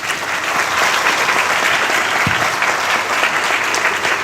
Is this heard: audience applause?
yes